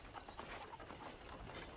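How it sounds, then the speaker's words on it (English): Horse hooves clip-clop steadily in Red Dead Redemption 2, a soft, continuous rhythmic patter of hoofbeats over a faint, broad background wash. "let's see if you can still ride a horse"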